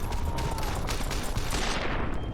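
Dense, continuous gunfire fills a fight in the video game Fallout New California, shots overlapping into a loud unbroken rattle with no pause.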